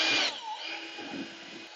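An electric power drill whirs as it mixes epoxy resin in a bucket, loud at first, then dropping to a steadier, quieter churning hum that runs alone with no talk.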